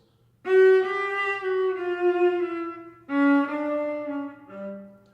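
A viola plays a phrase of long bowed notes with strong accented attacks, the first note of each group pushed heavily, ending on a softer low note.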